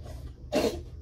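A single sharp sneeze or cough-like burst in the middle of a quiet indoor room, with a low steady hum underneath.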